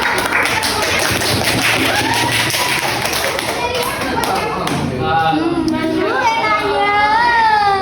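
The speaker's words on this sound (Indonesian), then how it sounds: "Oke, tepuk tangan dulu" A classroom of children claps together, a dense run of quick overlapping hand claps, near and loud, fading into a child and an adult speaking.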